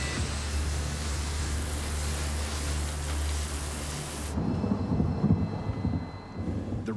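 A thunderstorm with rain makes a loud, steady hiss of downpour with a low rumble beneath it, then it thins into softer rain with scattered nearby knocks and crackles.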